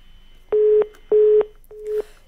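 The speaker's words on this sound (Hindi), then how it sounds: "फोन डिस्कनेक्ट हो गया है।" A phone line's disconnected tone during a Haryana election news broadcast: three steady beeps, the first two loud and the third fainter, with short gaps of silence between them.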